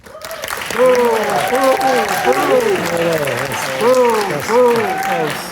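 Clapping from the audience at an LA City Council District 4 debate in Los Feliz, dense and sustained, with loud voices shouting and cheering over it throughout.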